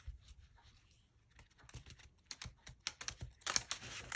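Soft, rapid patter of cards from an astrology tarot-style deck being gently waterfall side-shuffled by hand, a quiet stream of small ticks and flutters that grows denser and louder toward the end.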